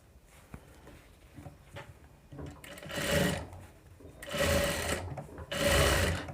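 A sewing machine stitches right along the edge of a boat neck blouse, running in three loud, close bursts of rapid whirring with quiet pauses between them.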